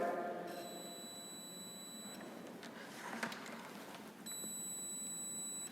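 A multimeter's continuity tester beeps across a 10-metre length of electrical wire, giving two steady, high-pitched tones separated by a short gap over faint room noise.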